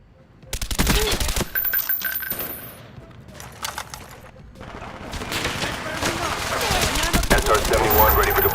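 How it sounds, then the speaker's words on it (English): Suppressed AUG rifle firing in Call of Duty Black Ops, delivered as rapid bursts of muffled, punchy shots with brief pauses between strings, sounding near and loud against faint game background noise. "the best sounding suppressed weapon in COD history is the AUG in Black Ops"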